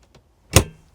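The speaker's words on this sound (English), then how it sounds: "There's the door opening" A glossy plastic 12V compressor fridge door in a camper van opens with a single close, sharp click-thud, preceded by a faint tick, then quiet.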